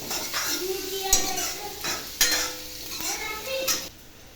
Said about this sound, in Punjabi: ਚੰਗੀ ਤਰ੍ਹਾਂ ਭੁੰਨਣਾ ਆਪਾਂ ਨੇ ਜਿੰਨੇ ਚਿਰ ਇਹ ਥੋੜੇ ਜਿਹਾ ਬਰਾਊਨ ਨਹੀਂ ਹੋ ਜਾਂਦੇ